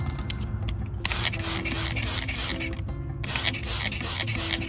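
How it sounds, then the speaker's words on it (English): A spray bottle blasts water at aphids on apple tree leaves outdoors, a steady close hissing spray running continuously with brief pauses and pulses. "simply blast off all the aphids with a spray bottle"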